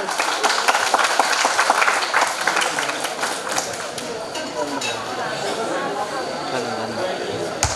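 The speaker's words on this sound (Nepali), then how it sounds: "So सबै मोडल्सहरूको लागि एकचोटि ताली बजाइदिनु न है" Audience applause for models at a fashion show, a dense burst of clapping and crowd chatter that thins into murmuring voices and scattered claps.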